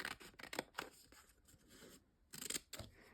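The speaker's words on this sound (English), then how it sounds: "I'm just cutting enough of that adhesive sheet to cover this little bit." Scissors snip through a thin adhesive sheet during papercraft prep for a die cutting machine, giving several crisp, close cuts in short irregular bursts with quiet pauses between them.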